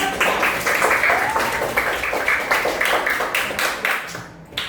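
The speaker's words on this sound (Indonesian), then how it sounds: "Oke, tepuk tangan." Seventh-grade students clapping in a classroom, a burst of rhythmic, somewhat uneven handclaps that fades toward the end, fairly close.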